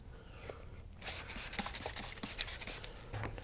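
Close, quiet rasping of a sanding block wet sanding boat gel coat with 2000 grit paper, rubbed back and forth over the smooth surface, starting after a brief pause and continuing in repeated strokes.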